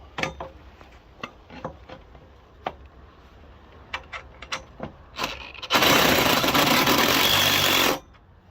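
A power driver sinks a screw into a pilot hole in timber for a washing line, a loud steady whirring burst of about two seconds, preceded by scattered clicks and knocks from handling the tool.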